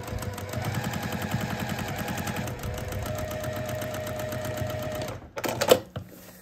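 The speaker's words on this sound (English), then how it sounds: "what we're gonna do is stitch on the line between A1 and A2" A sewing machine runs steadily for about five seconds, stitching a seam on a courthouse steps quilt block, then stops with a few close mechanical clunks.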